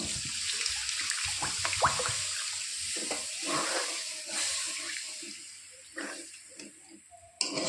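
Water is poured into a pan of lote fish curry, a close gush and splash that runs in uneven bursts for several seconds before a small clatter at the end.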